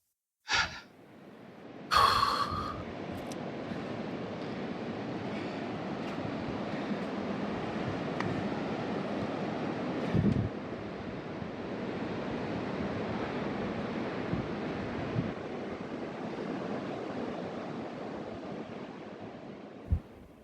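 Steady ocean surf and wind at Nunggalan Beach in Bali, a continuous broad rush with a sharp gust-like burst near the start and another swell midway, fairly faint and with no talking.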